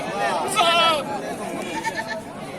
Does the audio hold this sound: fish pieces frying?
no